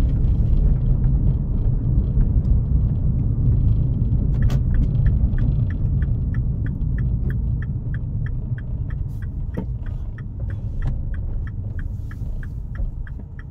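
A Seat Leon on a test drive gives a steady low road rumble and engine hum inside the cabin, with a rapid light ticking, like an indicator, running through the second half.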